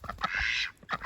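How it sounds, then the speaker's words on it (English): Two backyard ducks on an Australian homestead give a few close, loud quacks, one drawn-out call followed by shorter nasal bursts. "And we have 2 ducks."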